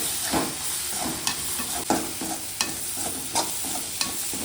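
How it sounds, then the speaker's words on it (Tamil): Tomatoes sauté in a pan for egg rice, a steady close sizzle broken by sharp scrapes and taps of a spatula about once or twice a second as they are stirred. No voices. "தக்காளி நல்லா வதங்கிட்டேன்"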